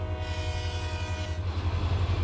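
A train horn in the Run8 Train Simulator sounds a loud sustained chord over the heavy rumble of the locomotive. The horn cuts off partway through and the engine drone continues alone.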